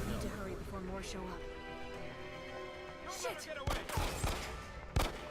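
Gunfire in the survival horror game The Evil Within 2, with sharp shots cracking out near the end over a steady background of game sound, while a voice talks over it.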